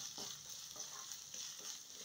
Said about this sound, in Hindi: प्याज को हम अच्छे से पका लेंगे